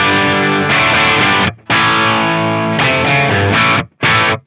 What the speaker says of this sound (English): This is my Marshall DSL-50. This is what it sounds like running through the Fractal X Load and into a speaker IR.